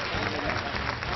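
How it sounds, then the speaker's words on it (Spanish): Studio audience applause for pelota player Abel Barriola on a Spanish TV show, a brief, dense, steady wash of clapping throughout. "Un aplauso para Abel"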